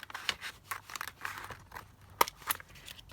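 Close, quiet snips of scissors cutting a paper ephemera piece from a master board come in an uneven run of short crisp cuts, with faint paper rustling between them.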